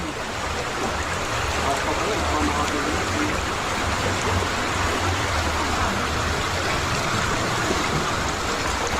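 Extremely heavy rain pours down during flooding in Quezon City, Metro Manila, a dense unbroken roar of water across the whole stretch, loud and steady, with running water mixed in.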